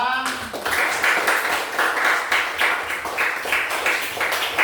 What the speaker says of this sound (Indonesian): kita tepuk tangan buat kita semua